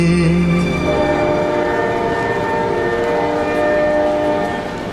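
An express train stands at a railway platform, its loud sustained horn-like tone and engine rumble filling the air, then easing off slightly toward the end.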